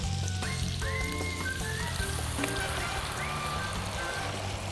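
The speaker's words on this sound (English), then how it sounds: "Now I'm going to deglaze my lobster." Lobster pieces sizzling steadily in a hot pan as white wine goes in to deglaze, a continuous close frying hiss with some whistling tones for several seconds.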